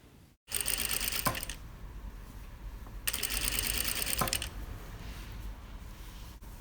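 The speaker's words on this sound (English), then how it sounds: "when we stitch down it, we're trying not to stitch exactly in the crease, but just to the right of it by 1 millimetre" Sewing machine running two bursts of stitching along a bias binding seam, sewing just beside the crease; each run lasts about a second with a steady mechanical whir, close and moderately loud, over a constant background hum.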